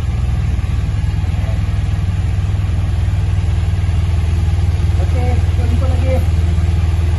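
A motorcycle engine idles with a steady low rumbling chug, close and constant, while faint voices talk in the background.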